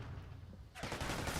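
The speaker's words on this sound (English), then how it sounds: "A lot of shots being exchanged back and forth, but not going to connect with anything just yet." Rapid gunfire in a Call of Duty championship match: a dense, sustained burst of shots that starts abruptly partway through after a quieter stretch, with faint background ambience.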